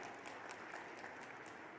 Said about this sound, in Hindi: जोरदार ताली माननीय नरेंद्र मोदी जी के लिए बजाएं एक बार